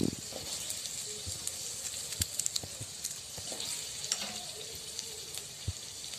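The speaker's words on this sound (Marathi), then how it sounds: "असा जाडा जाडा कांदा मी कापून टाकते। थोडा तेलात परतून घेऊया आपण।" Thick-cut onions sautéing in oil produce a low steady sizzle, with scattered sharp clicks and scrapes of stirring throughout, close but fairly quiet, and no talking.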